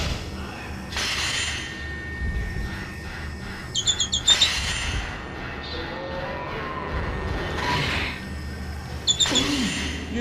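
Birds call in the game Project Zero 2: Wii Edition, with a few sharp, rapid chirping bursts spaced apart over dim rustling and creaking ambience.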